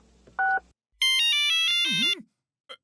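A cartoon telephone rings in short bursts of bright electronic tones, a brief beep followed by a longer warbling ring and a springy sliding effect, loud against otherwise silent surroundings.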